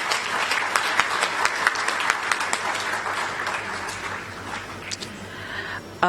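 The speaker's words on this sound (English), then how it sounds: "Can our chief guest get a hearty round of applause," Hearty audience applause at the official opening of a business forum, a full, continuous clapping from a large crowd that stays steady and gradually thins toward the close.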